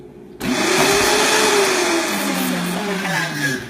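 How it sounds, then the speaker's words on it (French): A kitchen blender runs loud and steady while blending homemade mayonnaise from lime juice and other ingredients. The motor whirs on and settles into a constant drone with a slowly falling pitch. "je vais allumer le mélangeur"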